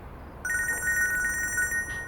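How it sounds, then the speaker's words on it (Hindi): A telephone rings in a home drama scene, a clear electronic trilling tone that starts abruptly and repeats in rapid pulses for over a second before breaking off. "फोन बज रहा है तुम्हारा"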